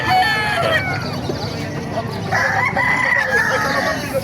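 Roosters crow repeatedly at a busy chicken market in Calumpit, Bulacan, their loud overlapping calls set against hens clucking and a murmur of crowd chatter.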